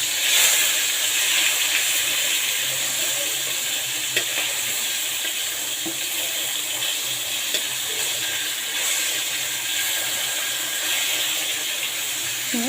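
Taro flowers fry with dried shrimp in a pan, giving a steady, close hiss and sizzle that continues without a break, with only faint occasional stirring taps.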